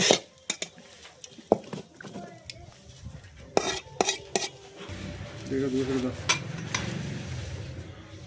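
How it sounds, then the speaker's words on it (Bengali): A metal spoon scrapes and clinks in a pan while kalonji seeds go into hot oil left from frying fish, with sharp scattered taps, then a soft rising sizzle under the stirring. "মাছ ভাজা ওই তেলেই কালো জিরেটা দিয়ে দেব"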